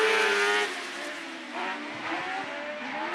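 Ladies' F600 autograss race cars compete at West Waterford in the British Autograss Series, engines droning at a distance with a steady, fairly loud whine that shifts in pitch as the cars circle, and no voices.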